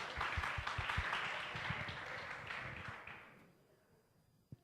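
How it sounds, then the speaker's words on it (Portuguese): A church congregation breaks into applause, a full room of clapping with a few distinct near claps, sustained for about three seconds before cutting to silence. "É, batam palmas pra ele."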